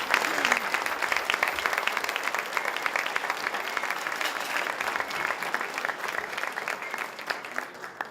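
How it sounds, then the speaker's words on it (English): Audience applause at a sports hall of fame induction ceremony, a continuous dense patter of many hands clapping at an even level throughout, with faint crowd murmur underneath. "let's give both of them a big round of applause"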